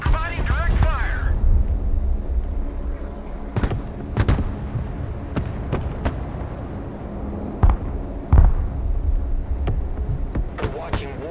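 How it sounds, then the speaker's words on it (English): Artillery in the video game Broken Arrow lands as a series of sharp explosive bangs, scattered and irregular, over a low rumbling battlefield background, with a voice heard briefly at the start. "Artillery available, sir. Providing direct fire."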